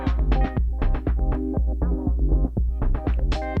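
Rhythmic synth patterns from a Novation Circuit Tracks groovebox play through its DJ-style filter: punchy pulsing notes and percussive hits in a steady loop, close and clear, with no voices.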